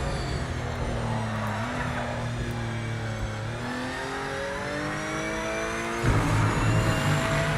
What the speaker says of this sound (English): Got to do that last downshift really late on